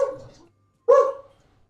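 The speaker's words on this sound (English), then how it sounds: "can you guys hear my dog?" A dog gives two short, close barks separated by a brief pause, loud and clear with no talking.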